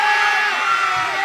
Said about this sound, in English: let me hear that crowd cheering again